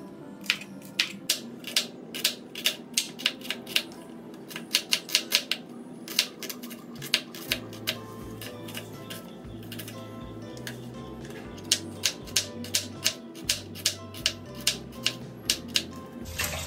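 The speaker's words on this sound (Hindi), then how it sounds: "पहले जल्दी जल्दी भिंडी काट लेती हूँ।" Okra being chopped quickly with a knife on a board in a home kitchen, a run of fast, crisp, evenly spaced taps that pause and then resume, close and fairly clear against a low background hum.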